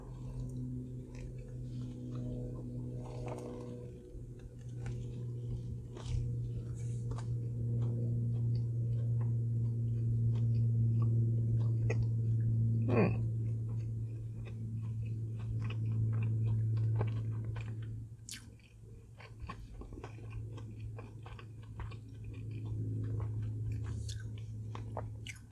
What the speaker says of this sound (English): The chicken patty is pretty crunchy.